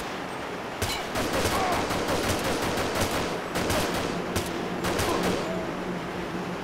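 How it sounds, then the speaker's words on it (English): Rapid bursts of gunfire from the video game Deus Ex, clustered volleys of loud close shots with short gaps between, no talking. "I'm gonna shoot you in the head now"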